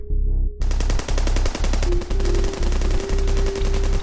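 Rapid automatic gunfire erupts after a brief quiet moment, loud sustained bursts of closely spaced shots in repeated volleys, with a tonal hum running underneath.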